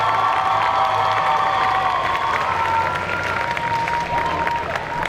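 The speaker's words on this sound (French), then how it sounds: "donc je vous demande d'applaudir, mais vraiment super giga fort" A large crowd at a cosplay competition jury presentation applauds and cheers loudly and steadily, with whoops and shouts rising over continuous clapping.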